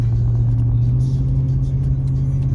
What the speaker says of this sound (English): Driving the Silverado today.